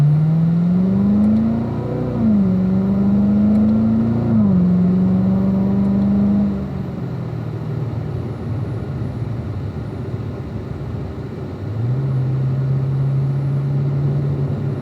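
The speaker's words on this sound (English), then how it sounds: "Back to the left on the gas, up to the fourth gear." A car on a race track accelerating hard and shifting up to fourth gear, its engine whine climbing in steps with audible gear changes, then easing off before rising again, loud and steady throughout.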